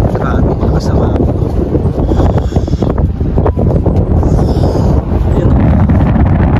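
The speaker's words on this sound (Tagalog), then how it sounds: "Grabe. Lakas na mahangin." Heavy, continuous wind in Canada blasts across the mic, a loud low rumble that never lets up, with speech barely audible underneath.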